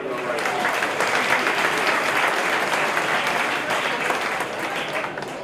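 Crowd at the 2013 Cavan senior Gaelic football final, Ballinagh vs Cavan Gaels, gives a sustained burst of applause and clapping that fades slightly toward the end.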